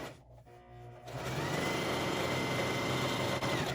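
A sewing machine stitches a quarter-inch seam on a cotton face mask, starting after a brief pause and then running in a steady, close, continuous whir.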